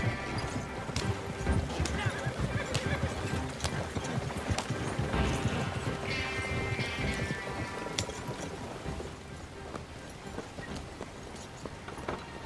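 Horse hooves clip-clop steadily as a horse-drawn wagon rolls along in Red Dead Redemption 2, the rhythmic clopping gradually easing off over soft outdoor ambience.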